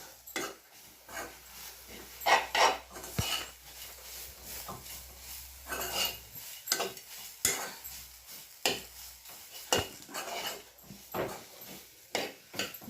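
A spoon scrapes and clinks in a pan as ground masala of coriander, cumin, garlic, chili, salt and turmeric is mixed into frying beans, in repeated close stirring strokes with a faint sizzle.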